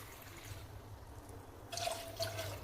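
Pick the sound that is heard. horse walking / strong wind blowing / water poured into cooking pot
water poured into cooking pot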